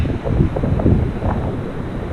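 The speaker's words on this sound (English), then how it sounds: "It's really windy here too." Strong wind at the shore near the Mokulua Islands, Oahu, buffets the microphone in a steady low roar, with a hint of surf rumbling underneath.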